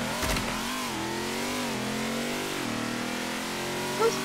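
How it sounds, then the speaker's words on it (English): A race car engine in the Roblox Jailbreak NASCAR event revs loud and close, its whining pitch climbing and dipping in a few sweeping surges before settling into a steady high drone. "It actually sounds like a race car."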